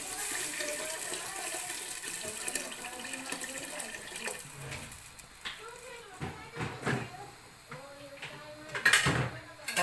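Water runs from a kitchen tap in a steady, moderate stream, up close, with clinks and splashes as it fills, while people talk over it.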